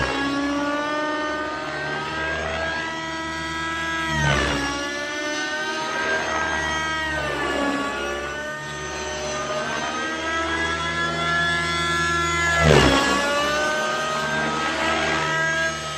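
A nitro RC helicopter engine screams steadily and close in flight, its high whine rising and falling in repeated sweeps as the craft maneuvers, with no voices.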